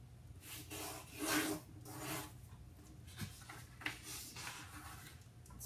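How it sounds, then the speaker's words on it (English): Traditional chiyogami paper is folded to a crease by hand, soft papery rubbing and scraping strokes in a few slow passes, quiet and close with no one talking. "let me try and fold one here and show you guys how well it holds a crease"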